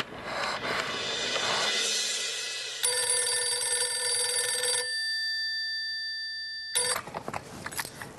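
A telephone rings indoors in a home, a loud steady electronic bell with a sustained tone that cuts off briefly and then resumes, with faint background rustle and no talking.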